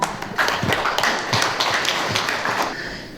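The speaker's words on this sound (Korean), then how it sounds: "여러분 박수로 환영해 주세요." Audience clapping to welcome a speaker at a Korean art exhibition event, a fairly loud burst of hands near and far that starts strong and slowly thins out.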